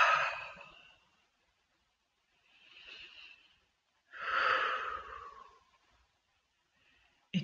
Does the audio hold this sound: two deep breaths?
yes